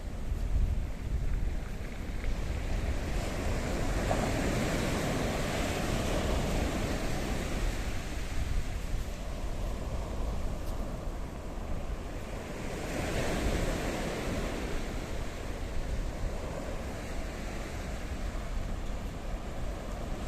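Sea waves wash steadily onto Rikkos Beach in Paphos, Cyprus, a continuous broadband roar with slow surges rising and falling, mixed with wind buffeting the microphone, and no voices.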